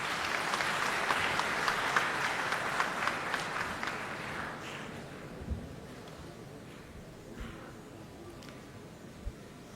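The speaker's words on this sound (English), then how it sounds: "Please give him a big round of applause." Audience applause at a student science prize ceremony at IIT Kanpur, a broad wash of clapping that swells early, then thins and fades over the clip, with a few louder thumps near the microphone and a breezy, noisy background.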